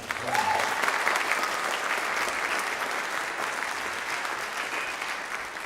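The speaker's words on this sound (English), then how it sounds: "So give them one more round of applause." An audience applauding a high school jazz band at a concert: sustained, evenly dense clapping from a crowd, strongest at the start and easing slightly as it continues, with no clear speech over it.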